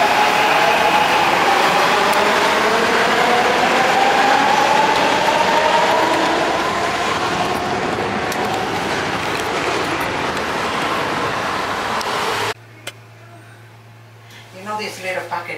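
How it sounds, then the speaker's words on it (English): A train rumbles past close by with a loud, steady roar and rolling clatter, then cuts off abruptly to quiet, with faint voices at the end. "And yeah, there is my train."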